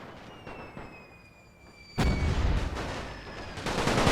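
Artillery cannon fire in the World War I strategy game The Great War 6.0: scattered distant pops, then a sudden loud booming volley that keeps rumbling on, with no voices.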